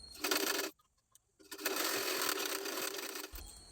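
A sewing machine stitches a blouse hook strip in two close, steady whirring runs separated by a brief silent pause, the second run longer than the first.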